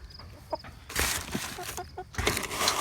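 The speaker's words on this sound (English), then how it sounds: "Okay, we're at the chicken coop." Chickens clucking inside a chicken coop, giving short, scattered clucks and calls at close range, with a few louder bursts of flock noise.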